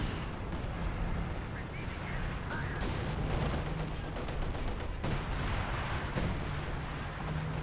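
Searing artillery in the strategy game Company of Heroes 2 pounds away as a dense wall of battle noise, with sharp gunfire cracks and rumbling blasts layered over a constant din while voices talk faintly.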